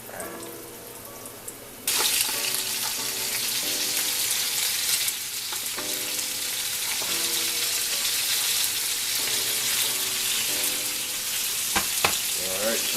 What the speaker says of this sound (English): scoop up the chicken and put it into the pan. It's gonna sizzle